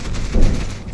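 Turrets firing in the Content Warning video game, a short burst of close gunfire with a thumping peak in the middle.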